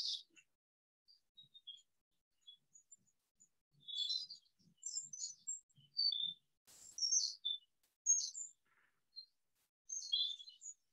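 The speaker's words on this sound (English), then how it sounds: "As you listen to the birds" Small birds chirp and twitter in short, scattered bursts against a quiet background, some calls close and bright, others fainter.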